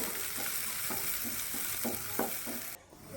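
Chopped onions frying in oil give a constant sizzle, punctuated by regular stirring scrapes about every third of a second, before the sound drops away abruptly near the end.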